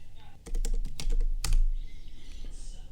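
Rapid, close keystrokes clatter on a computer keyboard while code is being typed, a burst of several quick clicks followed by quieter trailing taps.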